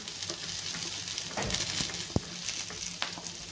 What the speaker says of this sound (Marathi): त्याला पण आपण छान मस्त परतून घेऊया